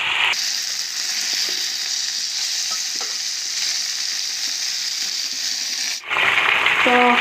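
Meat sizzles steadily in a pan of spiced masala, a loud continuous frying hiss with occasional stirring scrapes, ending in a brief clatter as the pieces are lifted out.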